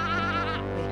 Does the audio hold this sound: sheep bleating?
yes